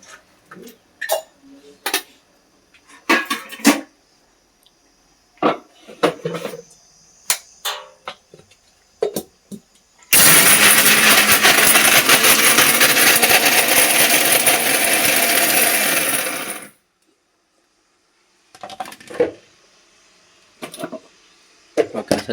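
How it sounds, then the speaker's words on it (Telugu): A kitchen mixer grinder whirs loudly and steadily for about seven seconds, grinding sugar and water for boondi laddu, between stretches of quieter clinks and handling sounds. "కొంచెం కొంచెం వేసుకొని మిక్సీ పట్టేసుకోవాలి."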